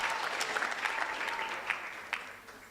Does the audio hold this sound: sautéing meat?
no